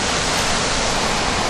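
Creek waterfall in Ohio, a dense constant hiss of falling water filling the short stretch evenly, close and fairly loud with no voices over it.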